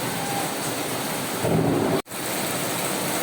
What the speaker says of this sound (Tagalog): Malakas ang ulan guys sa Metro Manila guys.